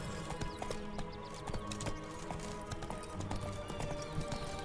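Rapid hoofbeats of the horse galloping in the video game Witcher 3: Blood and Wine, a steady clip-clop rhythm under a game soundscape with brief voices.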